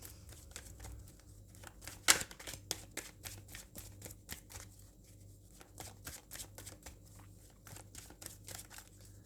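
A deck of tarot cards shuffled by hand close up, a quick run of soft riffling flicks and taps with one sharper snap near the start.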